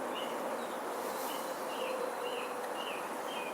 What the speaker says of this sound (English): You can see the bees right here. They're hungry.